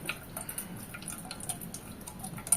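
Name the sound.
straining ground apple paste, juice dripping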